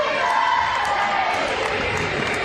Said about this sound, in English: You can hear the crowd wishing her a happy birthday.